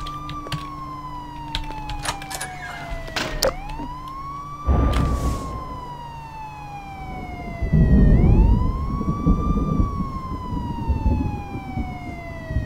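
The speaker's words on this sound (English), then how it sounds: "I hear a siren." A police siren wails in the Garry's Mod tornado survival game, a loud rising and falling tone that cycles slowly, with bursts of rumbling noise beneath it and no talk.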